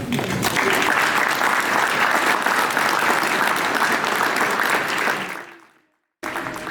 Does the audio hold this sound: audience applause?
yes